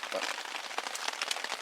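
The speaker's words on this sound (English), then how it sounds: "still raining." Rain pattering steadily on a tarp at a wet lakeside campsite in Algonquin Park, a dense close crackle of drops throughout, with a brief spoken word over it.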